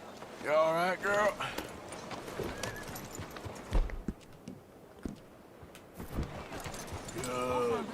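Horse hooves clip-clop in Red Dead Redemption 2 as the rider's horse carries gator skins, a steady moderate patter running under spoken voice at the start and end of the stretch.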